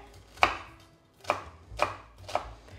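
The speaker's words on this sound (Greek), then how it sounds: "Κόβω και το δεύτερο κρεμμύδι." A knife chops a second onion on a cutting board in a kitchen: four sharp, separate chops at an uneven, unhurried pace, close and clear with no talk.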